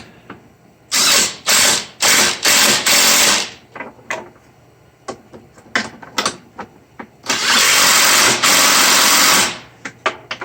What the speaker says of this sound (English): The other ones, I'm going to use the speed wrench on.